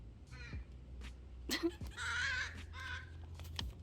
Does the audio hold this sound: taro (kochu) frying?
no